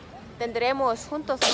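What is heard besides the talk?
sneeze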